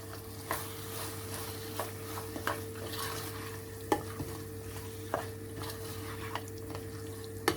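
Quiet stirring of curry ingredients in a bowl, with soft scraping and a few sharp clinks of a spoon against the side at irregular intervals.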